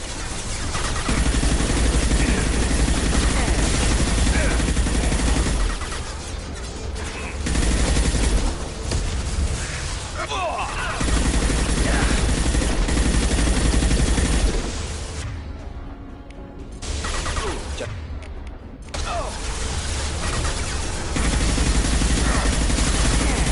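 Sustained, dense gunfire from a Mass Effect 2 battle against heavy mechs, loud continuous volleys with brief lulls and mechanical rumble, running under the game's music and effects.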